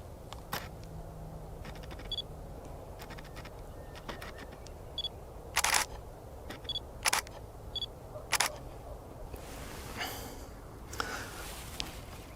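A camera shutter fires repeatedly while shooting vertical macro photographs of wildflowers outdoors, a dozen or so crisp clicks at irregular intervals, some in quick pairs, over a quiet background.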